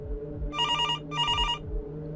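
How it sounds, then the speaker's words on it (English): A telephone bell rings twice in quick succession, each a bright electric trill lasting about half a second, sounding close and clear over a low background hum. "The sound of that phone ringing had become sickening"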